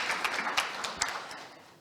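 Conference audience applause at a BIM and GIS event, a soft, fairly distant patter of clapping hands that fades away over about two seconds, with no voices over it.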